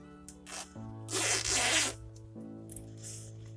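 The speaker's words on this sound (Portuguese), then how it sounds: "Deixo o zíper todo fechadinho pra ficar melhor" A clothing-style zipper is run shut along fabric while preparing to sew a folder for rulers: one close, rasping zip of about a second, set between quieter handling sounds.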